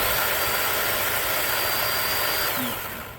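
A Craftsman V20 10-inch battery-powered chainsaw runs steadily with a high electric whine and cutting hiss, then winds down near the end.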